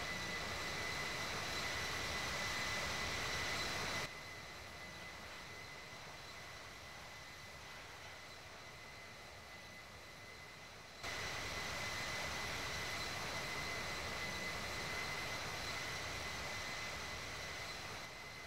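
Simulated airliner departing in the flight simulator game Infinite Flight, a steady broadband jet roar with a thin high engine whine that drops to a quieter stretch midway before swelling back to full strength, with no talk.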